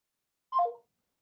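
A single short telephone keypad tone sounds once as a number is pressed to accept a call, clear and isolated against silence.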